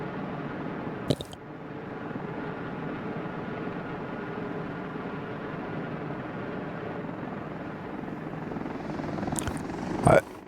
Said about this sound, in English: It's the helicopters going back and forth.